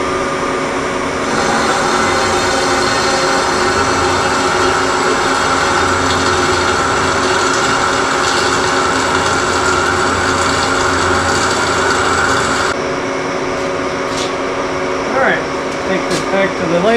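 A saw cuts through a machined front axle from a compact road grader, giving a steady, loud mechanical whine with tonal ringing that runs unbroken for about thirteen seconds and then stops, leaving quieter shop noise.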